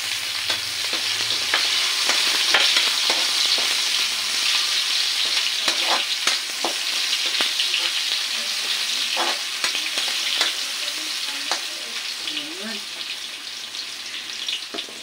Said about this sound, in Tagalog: gisa ko muna to para mabango ang mantika siya